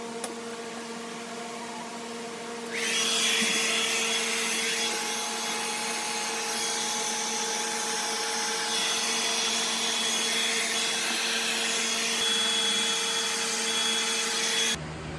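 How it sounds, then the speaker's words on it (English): A hairdryer blows onto wet carpet in a studio corner, switching on after a few seconds into a loud, steady whining roar close by, then cutting off near the end. "I'm just gonna try to take a hairdryer to it, try to kind of move it around"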